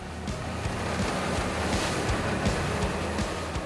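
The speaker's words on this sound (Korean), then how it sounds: "거친 파도에 조업이 쉽지 않을 것 같은데요." Rough sea waves crash and surge around a fishing boat heading out in bad weather to haul in nets set the day before, with a steady low engine rumble and wind buffeting the microphone, loud and continuous with no talk.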